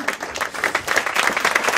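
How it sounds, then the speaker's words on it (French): Concert audience applauding warmly for a woman named from the stage, dense, close clapping that stays loud and steady from start to finish with no voices over it. "Je voudrais que vous applaudissiez très fort Madame Désirée Belaïch"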